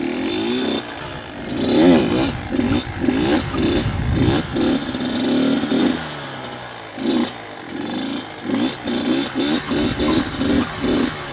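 A Kawasaki KX85 dirt bike engine revs hard in bursts during a wheelie attempt, rising and dropping in repeated throttle blips, loud and close, with gaps between pulls.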